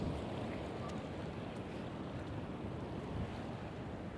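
Pacific Ocean surf at San Diego roars as a continuous broadband wash, loud and close, with wind buffeting the microphone and no distinct breaks between waves.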